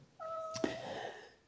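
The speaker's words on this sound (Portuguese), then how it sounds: "O meu gato está miando, acho que ele está com fome." Hungry house cat meowing once nearby, a clear drawn-out tonal meow with a brief sharp onset in the middle, trailing off into quiet.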